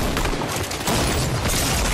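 Gunfire crackles in a round of the video game Fortnite, a dense burst of rapid shots and booms lasting a couple of seconds, loud and close.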